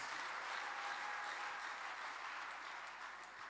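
Congregation at a Kinyarwanda church service applauding together, a dense steady wash of clapping that holds loud throughout and eases slightly near the end.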